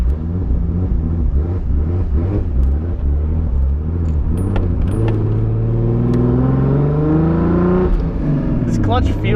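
Car with a swapped-in 2JZ engine pulling away and accelerating through the gears, a deep rumbling exhaust climbing in pitch, loud and close inside the cabin, with a voice speaking over it.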